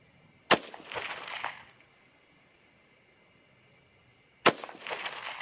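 .243 Win / 6mm ARC rifle shots fired during varmint practice at 50 yards, two sharp loud cracks about four seconds apart, each followed by a brief rolling echo.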